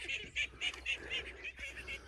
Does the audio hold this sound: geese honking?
yes